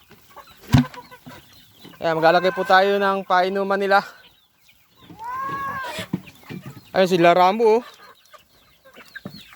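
Roosters and hens cluck and squawk in a farm pen among goats, the fowl calls mixed with someone talking nearby.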